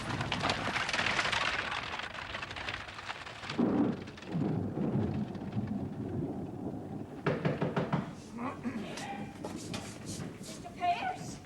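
A thunderstorm with steady rain hisses across the clip, with low rumbles of thunder swelling in and out. Voices can be heard talking beneath the storm.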